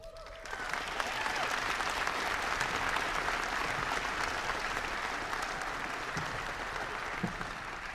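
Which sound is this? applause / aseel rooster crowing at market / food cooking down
applause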